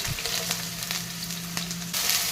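Green chillies frying in a pan for a street-style peas chaat: a steady close sizzle with faint crackles and a brief stirring scrape, no voices.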